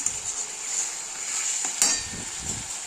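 Garam masala being stirred into a rui fish curry in a frying pan, with a steady sizzle and soft scraping of a spoon against the pan, plus one brief clink, close and without talk.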